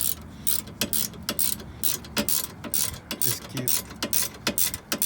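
A ratchet loosens a Tein coilover nut on a first-generation Scion tC, making close, repeated bursts of quick mechanical clicking in an uneven rhythm, with a brief bit of speech.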